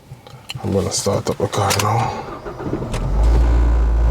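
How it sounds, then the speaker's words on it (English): A car engine starts after a few sharp clicks and brief voices, settling into a loud, steady low rumble close by that holds through the final seconds. "I'm gonna start up the car now."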